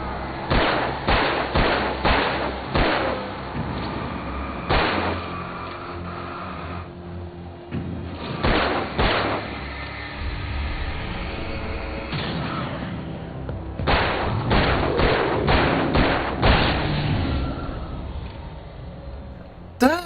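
Gunshots in the Alan Wake video game, with repeated heavy booming shots in clusters, some close together, mixed with game thuds and ambience, and a voice talking over parts of it.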